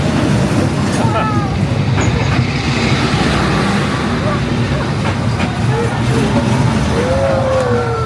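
A long train rumbles past at very close range on Hanoi Train Street, a loud, continuous rolling clatter with occasional high metallic squeals from the wheels, while people talk over it.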